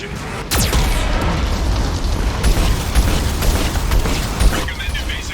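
A Geth cannon in the Mass Effect 2 video game fires with a loud, sustained boom, then a dense rumbling barrage of blasts and mechanical noise rolls on without a break.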